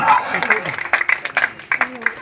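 Clapping at a school award ceremony as a prize winner is welcomed, brief and uneven claps rising in bursts over a speaking voice and crowd murmur, moderately loud.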